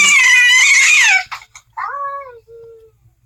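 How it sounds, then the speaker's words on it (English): A loud, drawn-out yowling cat cry, then a few short bursts and a falling, moaning wail, fairly close with nothing else behind it. "now that cat's trying to scare another cat outside"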